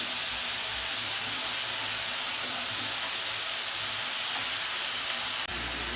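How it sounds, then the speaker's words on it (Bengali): Onion and jackfruit fry in a pan for a jackfruit and prawn dish, giving a steady, loud, airy sizzling hiss that drops abruptly near the end. "এবারে পেঁয়াজের সাথে এঁচোড়টাও দিয়ে দিলাম। এঁচোড়টাও কিছুক্ষণ ভাজা হয়ে যাবে।"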